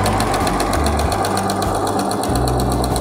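A BERNINA sewing machine runs continuously, stitching folded jersey bias tape with a narrow edge seam, producing a loud, fast, steady mechanical whir with a rapid repeating needle rhythm and no pauses.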